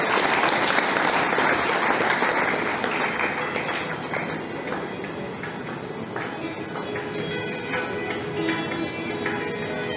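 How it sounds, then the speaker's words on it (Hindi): Loud, sustained applause from a large audience greeting a guest's arrival at a spiritual gathering, with a dense steady clatter of clapping that fades slightly toward the end. "जोरदार तालियों के साथ"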